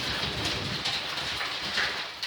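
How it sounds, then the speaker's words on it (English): Heavy rain pours steadily and loudly outside, a dense unbroken hiss with no voices over it. "Wow, that rain is loud."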